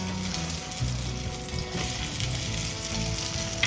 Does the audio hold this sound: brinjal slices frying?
yes